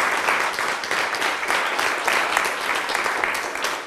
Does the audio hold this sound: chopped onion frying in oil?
no